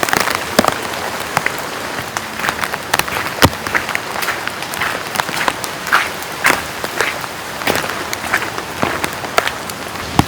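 Steady rain falls through fog under a pine tree during an overnight camp in strong wind, with sharp, close drops pattering irregularly over a continuous hiss.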